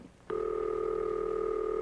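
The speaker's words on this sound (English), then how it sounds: "That's the ringing signal, an interrupted burring sound." A 1950s dial telephone ringing signal: a sudden steady burring tone with a faint warble starts abruptly and holds unbroken to the end, clear and close on a quiet line.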